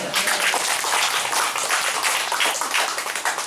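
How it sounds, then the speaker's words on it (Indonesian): Group applause from members of a church fish-farming (catfish) committee gathering, steady dense clapping throughout, fairly loud and even with no talk over it. "Tepuk tangan semuanya"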